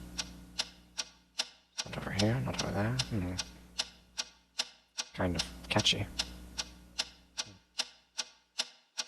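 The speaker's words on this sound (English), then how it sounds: "What is that mysterious ticking noise?" A mysterious ticking, like a clock, sounds as sharp, evenly spaced clicks roughly every half second throughout, continuing close and clear under a stretch of sing-song voices.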